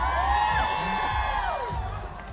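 A party crowd cheers and whoops at an album event, steady and loud throughout with shouting voices over a dense, continuous roar.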